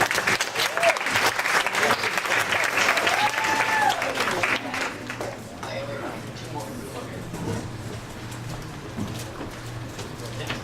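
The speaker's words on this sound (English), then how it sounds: "Please clap for our next performer" A crowd at a poetry night applauds as the next performer comes up, dense clapping for several seconds that thins and fades into a quieter room murmur with some faint voices.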